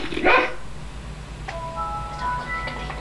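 A dog in the video game Ju-on The Grudge gives one short, close bark, followed by quiet ambience and a few sustained chime-like tones.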